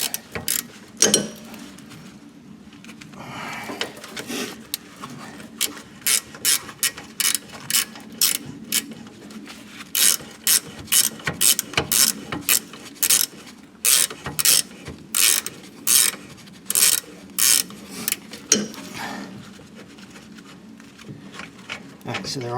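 A ratchet clicks rapidly in repeated bursts while loosening rear brake caliper bracket bolts on a 2012 Nissan Altima 2.5L, close and loud, with a person talking intermittently.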